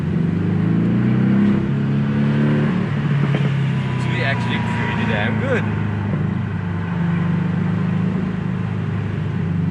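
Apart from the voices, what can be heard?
Porsche 718 Boxster S engine with sports exhaust revving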